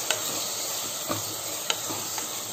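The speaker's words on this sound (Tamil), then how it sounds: "இதோட நல்லா மிக்ஸ் பண்ணிக்கோங்க." Chopped tomatoes and spices frying in a pan for mushroom biryani, a steady soft sizzle with a few light scrapes and taps of a spoon stirring, with no talk.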